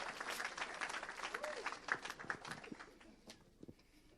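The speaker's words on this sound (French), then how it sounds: "On acclame le Seigneur." A church audience applauds and acclaims the Lord, with a burst of clapping and cheering that is loudest at the start and gradually fades, mixed with scattered voices.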